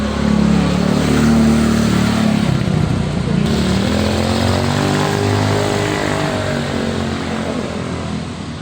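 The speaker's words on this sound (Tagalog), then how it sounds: "Daanan ng motor." A motorcycle passes on a road close by, its loud engine roar swelling and then slowly fading as it moves away.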